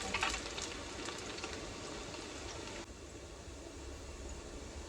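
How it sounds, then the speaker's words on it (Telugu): Garlic fries in a pan of oil, a close, steady sizzle that crackles a bit louder at first and then settles to a softer, constant hiss. "ఎల్లిగడ్డ కొంచెం దూరగా ఫ్రై చేసుకోవాలి"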